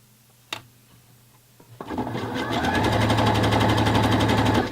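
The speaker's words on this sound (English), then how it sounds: "just sew along the top of the elastic" After a couple of faint knocks, a sewing machine starts up and runs steadily, stitching elastic onto a lace bra with a fast, even whirring rattle close by.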